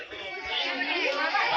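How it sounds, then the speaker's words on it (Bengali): A packed train carriage on Bengali New Year is filled with dense, close crowd chatter, many overlapping voices forming a continuous murmur that grows slightly louder. "ট্রেনের মধ্যে ভিড়টা শুধু দেখো তোমরা, তারপর আবার পয়লা বৈশাখ, ভিড় তো হবেই।"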